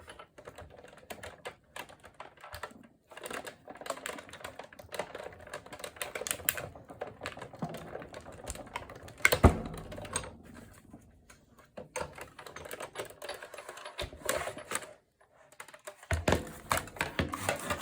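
A hand-cranked die-cutting machine pulls a sandwich of plates, paper and a cutting die through its rollers, making quiet, irregular clicking and ratcheting bursts with brief pauses between turns.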